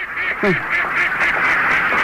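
Ducks quack close by, a raspy call standing out over a steady high background hiss and faint voices.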